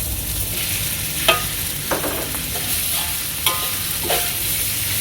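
Glass noodles and tomato are stir-fried in a hot pan for crab fried rice, a loud, continuous sizzle broken by a few scraping stirs of the utensil.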